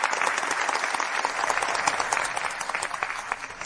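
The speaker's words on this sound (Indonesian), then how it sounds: "tepuk tangan meriah" Wedding guests applauding as the groom is welcomed up onto the stage, a continuous, fairly even patter of many hands that thins slightly toward the close.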